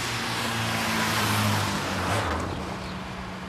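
A blue Ford Sierra drives on the road while being followed by police cars, giving a steady, fairly loud engine and road roar that swells slightly midway, with no voices.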